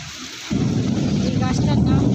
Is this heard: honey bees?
no